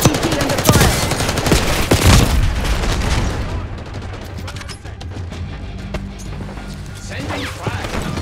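Dense bursts of automatic gunfire and booming blasts in a Black Ops 6 multiplayer match, loud and continuous at first, then thinning into scattered shots, with voices talking over the action.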